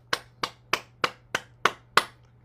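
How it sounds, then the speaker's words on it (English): Seven evenly spaced hollow claps ring out as cupped hands strike the body during a tapping and cupping exercise. They are close, crisp and regular, and nobody speaks over them. "we're going to continue with our tapping and cupping by clapping."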